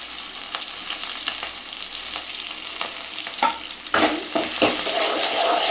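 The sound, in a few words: sautéing onions with curry leaves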